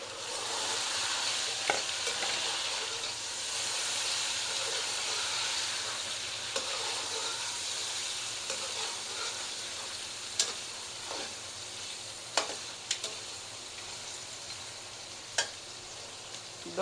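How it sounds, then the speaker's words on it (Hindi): Beef frying with onions in a pot for Afghani Kabuli pulao, a steady close sizzle and hiss with occasional sharp clicks from a stirring spoon hitting the pot, no voices. "अब गोश्त को थोड़ा सा फ्राई करेंगे।"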